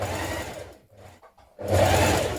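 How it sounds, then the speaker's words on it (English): A sewing machine stitches the side seams of a hem facing on a tunic, running steadily in a loud burst, pausing briefly, then starting up again even louder. "Now sew the side seams of your hem facing together."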